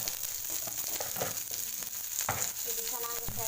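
Onion and tomato frying in a pan for an idli side dish, a steady close sizzle that runs throughout, with a few light stirring scrapes over it.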